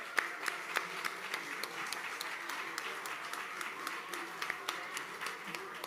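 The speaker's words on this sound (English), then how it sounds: "Big round of applause for all of our amazing speakers." Moderate applause from an audience after a speaker series show. Individual hand claps stand out clearly in a loose, uneven patter that holds steady throughout, with some faint voices underneath.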